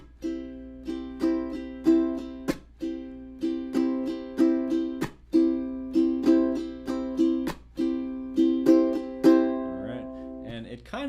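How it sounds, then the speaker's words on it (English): Ukulele played with a chukka strum, bright chords cut by sharp percussive muted chops in a steady repeating rhythm, close and clear, alone without talk. "Now this one introduces us to the chukka strum."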